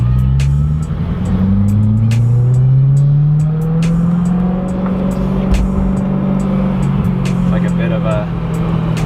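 A BMW at a Bimmerfest car show rolls over a gnarly speed bump, its engine note rising and falling loudly up close, with a faint bump and thud and a few soft ticks as it clears it.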